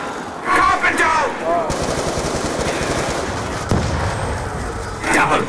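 Rapid video game gunfire, loud sustained automatic bursts over several seconds, with players talking over the shooting.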